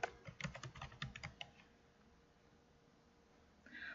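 Quick, quiet keystrokes on a computer keyboard patter in a short burst near the start, fading into faint room hiss before a brief soft noise at the end.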